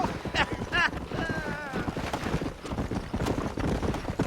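Horse hooves clip-clop in Red Dead Redemption, a steady rhythmic trot running under game dialogue and light wind noise, with a voice speaking over the start.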